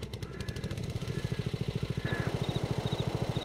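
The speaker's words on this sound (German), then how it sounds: "Dieser Rasenmähermotor, so klingt das." A small lawn mower engine on a tractor mod in Farming Simulator 22 runs with a rapid, steady putter of pulsing beats, fairly close and alone.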